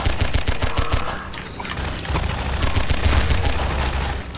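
Rapid gunfire in a video game firefight around a coast house, dense bursts of shots crackling continuously and loudly, close and unbroken by talk.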